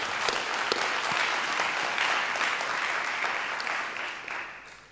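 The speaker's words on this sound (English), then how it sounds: "You can give us a applause." Steady, dense applause from a large graduation audience at the University of South Africa ceremony, sustained throughout and easing slightly toward the end.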